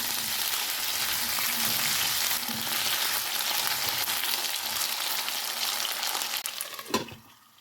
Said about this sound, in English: And then we'll start with the potatoes. They take longest to cook. Toss them for a minute.